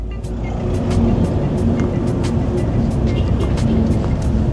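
A Li Auto L7 five-seat hybrid car accelerates. From inside the cabin there is a loud, steady rush of road and motor noise that holds even throughout.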